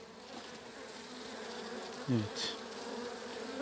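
Honey bees in a weak, hungry hive hum in a steady low buzz, close by, while a voice speaks briefly over it.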